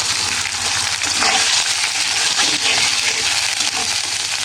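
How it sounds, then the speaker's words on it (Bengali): Egg-laden shing fish hits hot oil with bay leaf, white cardamom, ginger and garlic paste, giving a dense, continuous hissing sizzle close up, steady throughout with faint clinks and stirring. "তারপরে দেব শিং মাছ, ডিমওয়ালা শিং মাছ।"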